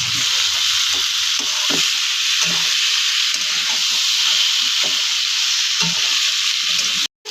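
Spice masala for a prawn curry sizzles in oil in a pan, a continuous close frying hiss with soft stirring scrapes throughout, then a brief break near the end.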